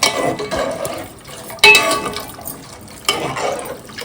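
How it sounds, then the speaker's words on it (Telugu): Water pours into a cooking pan of amaranth stems with chana dal, a steady splashing rush with a few sharper clinks against the metal. No one speaks. "తగినన్ని నీళ్ళు పోసుకోవాలి"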